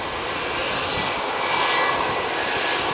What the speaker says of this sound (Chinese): 妹妹飞机来了，赶快！